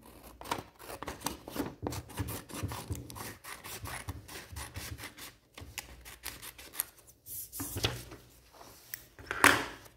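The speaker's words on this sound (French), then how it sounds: "Nous allons découper une bande de papier" Scissors snip through a strip of paper in a steady run of crisp, close cuts and rustles, with no talking over them.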